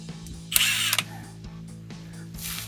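An 18mm socket wrench snugs down bolts on a Jeep Gladiator JT exhaust install, giving a short burst of close ratcheting clicks followed by quieter clicks and mechanical handling noise.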